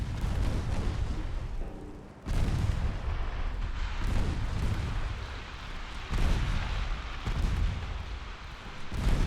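Naval shells from heavy guns strike in a 1954 Ottoman campaign battle in Ultimate Admiral Dreadnoughts, landing as repeated booming impacts with deep rumbling tails, loud and close, in irregular succession.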